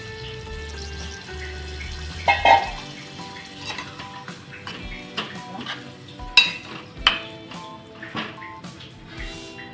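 Water is poured into a bowl holding leftover spice paste and stirred, with a short splash followed by scattered clinks and scrapes of a spoon against the bowl, close and moderate in level.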